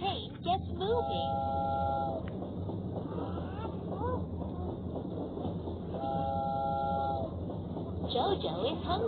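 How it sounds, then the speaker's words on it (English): A toy train in a Masha and the Bear video game moves along with a constant chugging rumble, punctuated by two bright, sustained whistle toots. "Choo-choo! The little train gets moving."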